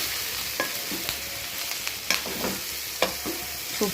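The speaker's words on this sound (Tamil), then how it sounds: "வதங்கிட்டுருக்குறேன்." Ginger sautés in oil with garlic in a pan for an ivy gourd chutney, a soft continuous sizzle broken by scattered scrapes and clicks of stirring.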